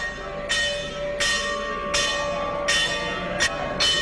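A temple bell rung by worshippers in the morning: five or six clear metallic strikes at a steady pace, each ringing out and overlapping the next, loud and fairly close with no talk.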